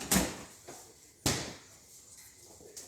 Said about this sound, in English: What? Drawer.